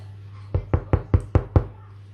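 Six quick, evenly spaced knuckle knocks land on a baked loaf of soda bread, each a short, close, hollow thud over a low steady hum.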